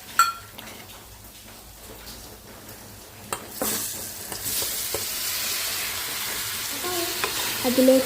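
A chili, fenugreek and turmeric spice mix being stirred in a hot pan for pineapple pickle, with scraping strokes and a rising sizzle that grows louder toward the end, plus a few light metallic clinks.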